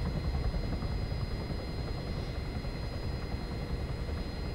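Helicopter in the video game Arma 3, a steady rotor and engine drone with dense low-end rumble that stays constant and loud throughout, no voices.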